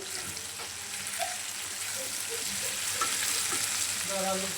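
Farm chicken pieces and spices fry in a pan with a steady, broad sizzle that holds throughout, with scattered clinks and small stirring knocks near at hand and no talk.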